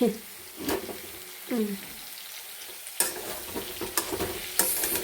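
Soybean curry sizzles and fries in a kadai wok while a utensil stirs it in several distinct scraping bursts, close and fairly loud against a steady frying hiss.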